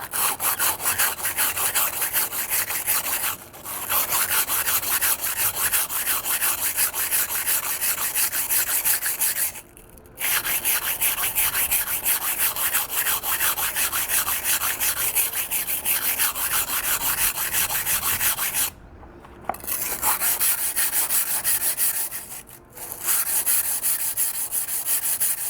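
A kitchen knife with a 3mm damaged edge and tip is ground freehand on a sharpening stone, a continuous rhythmic scraping rasp broken by a few short pauses, close and clear with no talking.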